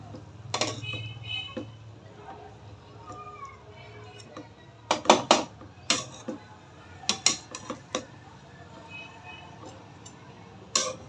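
A metal spoon mixes chicken biryani in a cooking pot, giving scattered sharp clinks and scrapes against the pot, some in quick clusters, over a low background hum.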